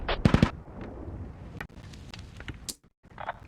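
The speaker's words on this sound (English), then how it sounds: "125mm cannon firing HE shells at this infantry" Heavy 125mm cannon on a Sprut in a military video game fires HE shells at prone infantry, a loud cluster of sharp blasts at the start followed by rumbling echoes and scattered distant impacts.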